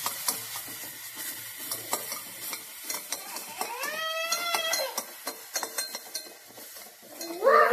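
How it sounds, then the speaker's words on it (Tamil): Carrots sautéing in ghee in a pan for a baby breakfast, with a soft sizzle under repeated spoon scrapes and stirring clicks; a high chirpy sound briefly rises partway through and again at the end. "நல்லா லேசா வதங்கட்டும்."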